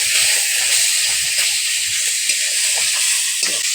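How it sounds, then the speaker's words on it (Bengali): Fish oil frying in a kadai gives a loud, steady sizzling hiss throughout with faint crackles, close up and without speech. "এখন কড়াতে দিয়ে দেব, হালকা করে ভেজে নেব,"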